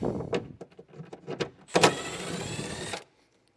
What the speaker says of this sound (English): Here's those two fasteners. They're just a 10mm head bolt. We'll pull those out.